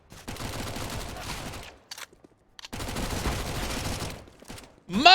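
Pistol fire in a Counter-Strike esports match, dense bursts of rapid shots in two loud clusters separated by a brief lull, with caster commentary running over the action.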